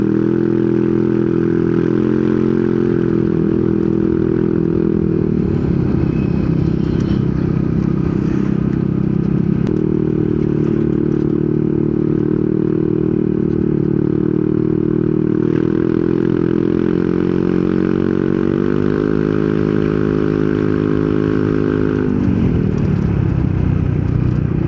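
A Yamaha Nmax Techmax 155 scooter with an open muffler drones loudly and steadily up close, its engine pitch rising and falling as it revs and accelerates under load.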